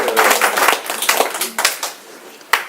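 A small audience at a café citizens' meeting in Mauléon-Barousse applauds Ginette with scattered, uneven hand claps that thin out into a few sharp final claps.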